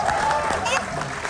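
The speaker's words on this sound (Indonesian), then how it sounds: "Tepuk tangan dulu buat dia." A studio audience on an Indonesian TV talk show claps in a dense, steady burst of applause that fills the moment, with a voice over it.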